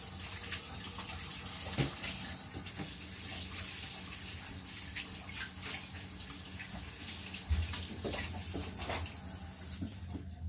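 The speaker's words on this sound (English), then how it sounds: "now let me wash my hands" Water runs steadily from a tap while hands are washed, a soft, continuous hiss and splash heard from fairly close with a few small knocks and splashes, no talking.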